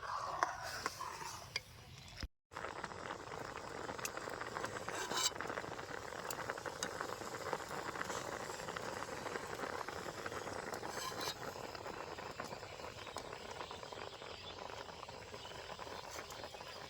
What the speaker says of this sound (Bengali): ডাল আবার খালি নুন দিয়ে ভালো মতো সিদ্ধ করে নেবো